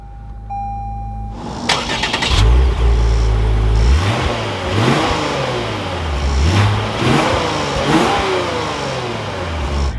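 A 2023 Lexus RC350 F Sport with its V6 engine cranking and catching, then settling and revving repeatedly in rising and falling sweeps, loud and close with no talk.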